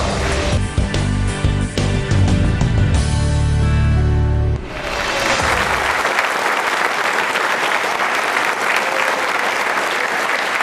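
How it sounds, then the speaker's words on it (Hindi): Music plays, then breaks off into steady, moderately loud audience applause from a studio crowd, continuing evenly to the end with no talk. "तो तालियां बजाइए"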